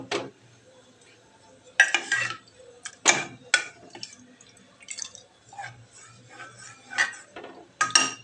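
A lid set over a pot of ghugni in a home kitchen, producing a series of light metallic clinks and taps spaced irregularly against a quiet background, close and crisp.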